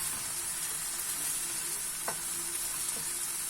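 Tomato paste frying in a pan for bulgur pilaf gives a steady, close sizzling hiss, with a couple of faint clicks from stirring partway through.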